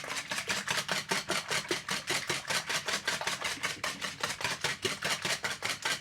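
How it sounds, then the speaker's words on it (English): Beaten eggs being whisked in a bowl, whites and yolks together, a fast steady rhythmic clatter of a whisk against the bowl, close and continuous with no talking. "Want to give it a good whisking to make sure we get the whites and the yolks beat in there well."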